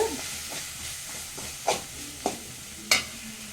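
Curry leaves being stirred into a hot pan in a home kitchen, a steady sizzling hiss with a few sharp scraping strokes of the spoon near the end, close by and without talk.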